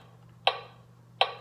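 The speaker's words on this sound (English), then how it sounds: "So let's say that's my metronome" A metronome set to a slowed tempo of about 80 beats per minute gives two crisp, evenly spaced ticks over a faint low hum.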